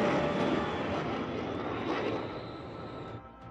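A fighter jet roars past at high speed on afterburner, a broad loud rumbling blast that holds steady and then slowly fades away.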